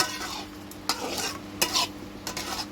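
A spatula scrapes and stirs raw green mango sour sauce with sugar in a wok. Brief clattering strokes recur over a low, steady simmer, close and fairly quiet, with no voices.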